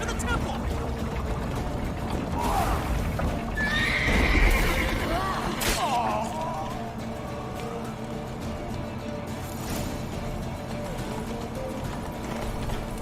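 A horse in the video game The Witcher 3 whinnies and neighs amid clip-clopping hooves over a busy game soundscape, with a player talking over it.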